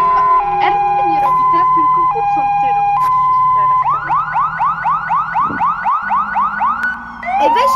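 A fire truck horn in a Roblox game honks in rapid repeated blasts over a wailing siren, loud and close, after a steadier tone.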